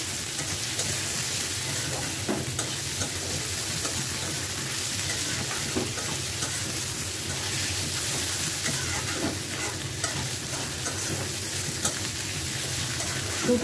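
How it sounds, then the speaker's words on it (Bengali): Ripe green chilies fry in a pan with salt and turmeric, giving a steady soft sizzle and hiss with occasional light stirring scrapes throughout. "এখন শুধু জাস্ট লবণ আর হলুদ দিয়ে ভাজা ভাজা করে নেব।"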